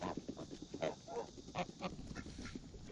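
A group of geese, with ducks nearby, gather around a pumpkin and let out repeated nasal honks and calls that overlap in a busy, moderately loud chatter throughout.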